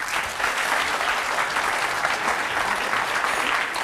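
A studio audience on a French TV talk show breaks into dense, sustained clapping that fills the whole stretch at an even, loud level, with no speech over it.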